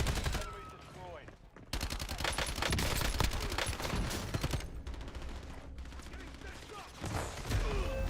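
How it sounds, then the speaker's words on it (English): Rapid automatic gunfire in a tactical shooter video game comes in long dense bursts with brief gaps, loud and sustained, while a player talks faintly beneath. "I got shot from deep right?"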